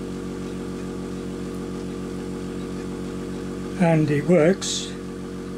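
UGears pneumatic model engine running on air fed from a small compressor through an adapter gives a steady, close mechanical drone with a low hum throughout, and someone briefly speaks over it near the end.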